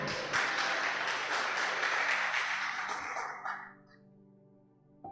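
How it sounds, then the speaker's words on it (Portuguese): A church congregation breaks into dense, sustained applause, loud and steady at first before it thins out and fades to near silence. "Então dê um aplauso para o Senhor."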